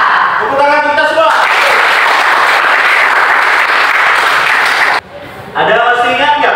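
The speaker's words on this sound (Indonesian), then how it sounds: "Tepuk tangan kita semua." A classroom or school assembly of students claps in a loud, dense burst for several seconds, briefly cut off, with a voice speaking before and after.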